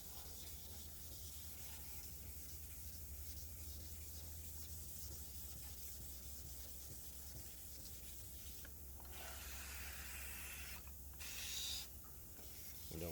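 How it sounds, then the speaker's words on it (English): Wet sanding a car's clear coat by hand with 2000-grit paper and water, a faint, steady rubbing hiss with a few brief stronger scrubbing strokes toward the end. "just keep sanding."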